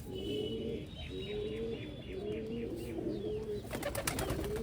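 Pigeons on a rooftop coo in a steady run of low, rolling calls that repeat every second or so, close and clear, with brief chirps above them and a burst of rustling near the end.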